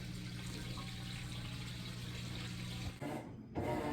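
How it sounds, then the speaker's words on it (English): Maytag Bravos washer fills with fresh water for the rinse, giving a steady rushing flow with a low motor hum, broken by a brief gurgling shift near the end. "it's going to fill back up with fresh water for the rinse cycle"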